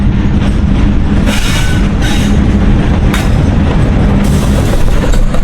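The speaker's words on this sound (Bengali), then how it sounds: "তো এটা হচ্ছে মহানন্দা ট্রেন তো এই ট্রেনটা হচ্ছে খুলনায় যাবে" The Mohananda train passing near Hardinge Bridge over the Padma, a loud, close, continuous rumble of rolling railway cars with rattling wheel noise and brief bright clanks.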